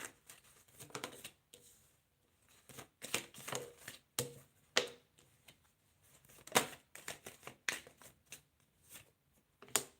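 Tarot cards are shuffled and drawn by hand at close range, a quiet run of papery riffles, flicks and soft slaps coming in irregular bursts for about ten seconds with no talking.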